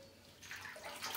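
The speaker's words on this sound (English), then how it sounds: "I'm just gonna swish it to get it" Warm water swished by hand in a basin to dissolve fabric-treatment powder, a soft, steady sloshing that grows louder partway through, close by and alone.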